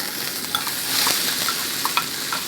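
Onions and chili sizzling in a hot wok for a Thai basil stir fry, a steady close hiss of frying broken by a few light stirring clicks.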